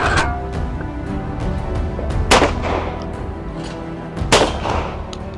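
A Beretta AX800 semi-automatic shotgun fires 24-gram shells on a raised compact clay course outdoors: two loud, sharp reports about two seconds apart, close by over steady ambient background.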